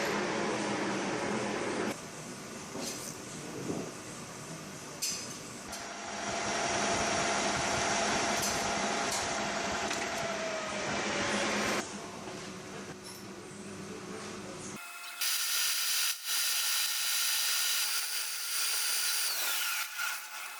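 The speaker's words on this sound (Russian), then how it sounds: "Тем временем токарь и также Виталий вытачивает нам болванку." A metal lathe turns a steel blank meant for repairing a 5-litre Infiniti FX50 VK50VE cylinder head. It gives a steady, loud, broadband machining whir with shifts in tone and a few clanks, and the pitch changes abruptly near the end. No one speaks.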